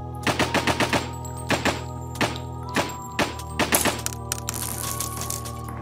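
Bursts of gunfire in a video game, sharp close cracks fired in quick rattling volleys and single shots with short gaps between them, followed by ringing metallic clinks as it trails off.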